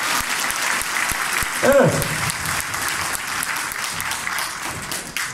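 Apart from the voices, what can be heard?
delegates applauding at a party congress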